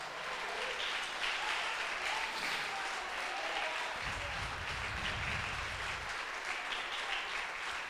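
A church congregation claps together at a thanksgiving anniversary service, with sustained, dense applause filling the room at steady loudness throughout.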